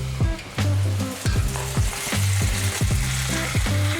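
Venison browns in olive oil in a pan with a loud, steady sizzle, punctuated by rhythmic clanks and scrapes of a utensil against the pan at regular intervals.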